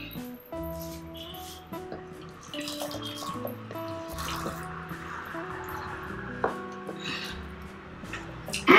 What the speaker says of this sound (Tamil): ஒரு கிளாஸ் தண்ணி போட்டுக்குங்க.